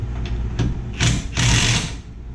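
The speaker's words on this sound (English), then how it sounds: "We're putting a wrench in the back side of this bolt" A wrench works a rear shock bolt on a 2007 Toyota RAV4, giving a few short clicks followed by two louder bursts of metallic ratcheting over a low background hum.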